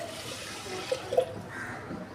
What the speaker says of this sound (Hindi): और इन चावलों में हम डाल लेंगे पानी।